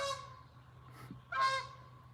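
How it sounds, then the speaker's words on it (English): Geese honk outdoors in a few faint, nasal calls, one at the start and another stronger honk a moment later over quiet background hum. "Sorry about the geese."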